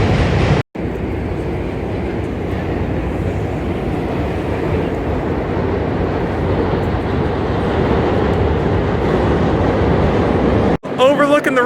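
New York subway train rumbling across a bridge near the Dumbo waterfront in Brooklyn, a loud steady roar with grinding undertones filling the scene, briefly cutting out near the start and end.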